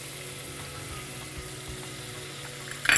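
Onions frying in a pan with ground cumin and chili powder give a steady, fairly faint sizzle and crackle, with a brief louder clatter right at the end.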